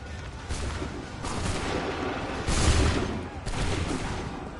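Musket volleys crash in a battle in Assassin's Creed 3, loud rolling blasts that swell and fade across several seconds, with the heaviest boom near the middle and another volley following.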